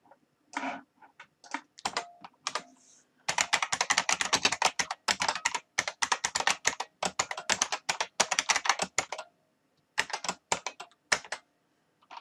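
Computer keyboard typing while writing code, a fast and close run of crisp key clicks in irregular bursts with short pauses between them and no talking.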